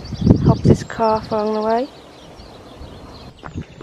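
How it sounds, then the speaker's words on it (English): Birds sing outdoors on a fine morning, a clear harmonic whistle-like call repeated in two bursts between stretches of close talk, then fading into a quiet open background with faint chirps. "Hear those birds singing."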